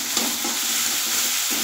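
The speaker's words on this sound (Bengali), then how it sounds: "পেঁয়াজটা আমি ভালো করে এবার ভেজে নেব।" Onion fries with ginger paste and chili paste in a hot pan, giving a loud, steady sizzle broken by brief scrapes as the mixture is stirred.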